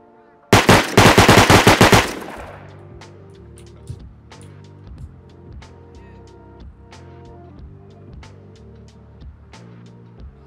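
A rapid burst of loud automatic gunfire in a video game, roughly a dozen quick shots in two seconds, then quieter scattered game sounds and distant pops under faint talk.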